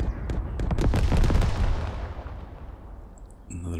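Tank main gun in the video game Second Front fires in a burst of heavy booming blasts with crackling impacts, loud and close, decaying into a low rumbling tail before a brief new sound at the end.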